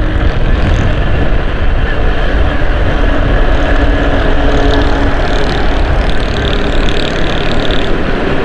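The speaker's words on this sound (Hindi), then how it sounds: "मोटरसाइकिल की स्पीड मैंने कर दी थोड़ी तेज़।" A motorcycle accelerates while crossing the Tipu Sultan bridge. A loud, continuous roar of engine and wind buffeting fills the whole stretch, steady and close to the microphone.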